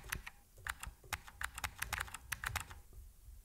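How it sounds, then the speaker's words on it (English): Computer keyboard keys tapped in a quick, uneven burst as a company name is typed in, close and fairly quiet, with no voices. "So let's type company name."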